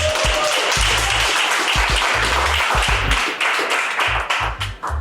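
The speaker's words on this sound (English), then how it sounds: "Clap for us." An audience at an investment event in Washington DC bursts into applause, a dense wash of clapping with heavier close claps sounding in uneven bursts and gradually thinning toward the end.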